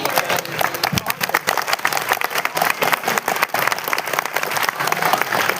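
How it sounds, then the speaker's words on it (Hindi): Sustained, dense applause from an audience at a Hindi kavi sammelan poetry recital held at a Ramlila event, steady and fairly loud throughout with a few stronger bursts of clapping. "तालियां कमजोर है, जरा जोरदार तालियां बजाइए।"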